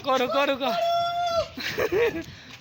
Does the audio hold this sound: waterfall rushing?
no